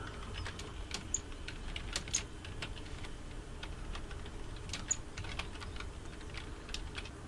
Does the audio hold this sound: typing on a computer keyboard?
yes